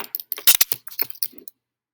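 A computer keyboard clicks in a short irregular burst of quick keystrokes, close and clear, then falls silent.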